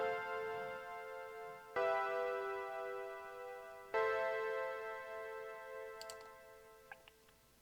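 A Reason Europa synth pad with distortion plays quietly, holding buzzy, harmonic-rich chords that swell in three times and slowly fade. A few faint clicks sit near the end, with no voices.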